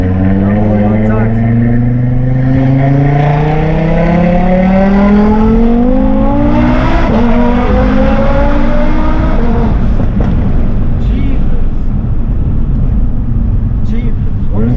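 A 1000hp Audi RS3 heard from inside accelerating hard, its engine note climbing steeply through the revs in a loud, continuous pull with a brief shift before surging again.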